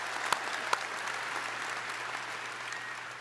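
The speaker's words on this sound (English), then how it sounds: "You look around, that's all right, you can applaud" A crowd of Razorback fans applauds at an indoor head coach induction, a dense continuous wash of clapping with a couple of sharp pops near the start, steady and fairly close.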